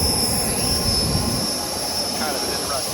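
A steady, loud roar of an Embraer regional jet's engine near a tarmac boarding area, constant broadband rumble with a high whine, running throughout without pause.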